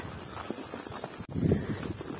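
Horses walking on a late-afternoon horseback ride through rural countryside, hooves clip-clopping in a quick, uneven rhythm that grows louder and closer midway through the short stretch, with no speech.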